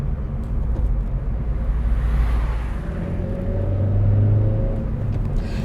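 A 2018 Suzuki Swift Sport drives around the city, its engine a steady low rumble with a rising drone toward the end, heard from inside or close by, no talk.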